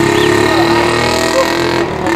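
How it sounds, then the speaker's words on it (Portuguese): A motorcycle revs in a neighbourhood street, its engine held at a loud, sustained drone with a brief rising whine, close and continuous under background noise. "estralando moto pra tudo que é lado aí"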